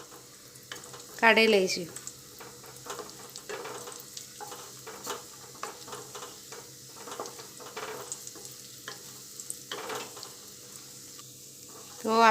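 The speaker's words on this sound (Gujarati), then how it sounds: "ને થોડા આછો કલર ચેન્જ થાય ત્યાં સુધી તેને આપણે રોસ્ટ કરીશું" Cashews roast in oil in a pan with a soft, continuous sizzle and occasional stirring scrapes and clinks, fairly quiet, with a person briefly speaking near the start and at the end.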